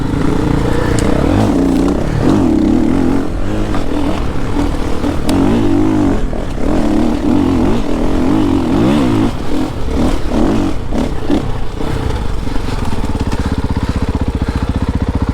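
A KTM 500 motorcycle's big single-cylinder engine thumps and revs on an off-road ride, loud and close, its note rising and falling continuously with clattering from the terrain.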